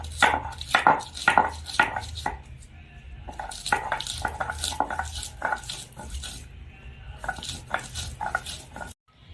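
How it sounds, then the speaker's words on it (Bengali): Green chillies are ground into paste for a village chicken dish, giving a rhythmic run of close, scraping and knocking strokes, some louder than others, in a quiet kitchen without talk. "বন্ধুরা, এখন আমি কাঁচা লঙ্কাটাও বেটে নিচ্ছি।"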